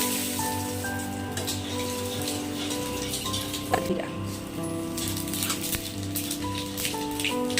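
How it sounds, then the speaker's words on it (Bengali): Two dried red chillies and a bay leaf crackle and sizzle in hot oil, a soft steady patter like light rain that continues throughout, with faint tonal background sounds. "তেল গরম হয়ে গেছে, ফোড়ন দিয়ে দিতে হবে। দুটো শুকনো লঙ্কা, না মতো তেজপাতা"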